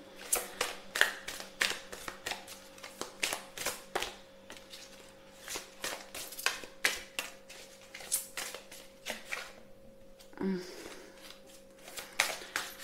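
Tarot cards are shuffled and drawn in a series of crisp, close, irregular riffling and flicking bursts, while someone speaks quietly in the background.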